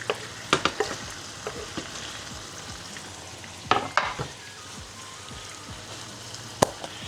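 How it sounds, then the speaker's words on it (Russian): Chicken sizzles quietly in a frying pan, with a few sharp clatters of a utensil scraping and stirring now and then. "Так, курица хорошо жарится."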